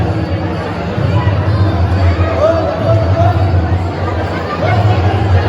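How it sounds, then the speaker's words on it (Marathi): Dense crowd packed inside a Shiva temple in Vashi village during the Mahashivratri festival, a continuous hubbub of many overlapping voices and chatter filling the space at steady, loud level throughout. "आता पोचलो आणि आतमधीतली गर्दी बघा तुम्ही"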